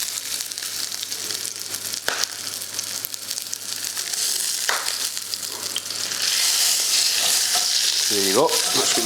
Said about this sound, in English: Into your frying pan and put a bit of colour on it.